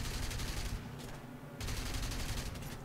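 Aircraft machine guns in War Thunder rattle out in long rapid bursts during a dogfight with a Yak-3. The fire cuts out briefly midway, then resumes as a loud, dense stream of shots.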